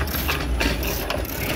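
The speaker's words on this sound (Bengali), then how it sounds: "উজান ভালোই সাইকেল চালাচ্ছে একা একা" A bicycle being ridden along a road, its freewheel giving a steady, fast ratcheting click that runs continuously and fairly loud, with no voices.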